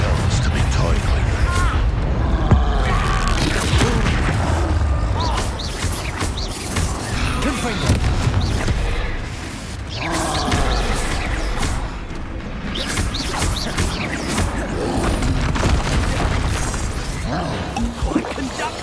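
Expulso blast spells explode in Hogwarts Legacy as a run of loud, booming crashes and whooshing bursts that come in close succession over a busy game soundscape.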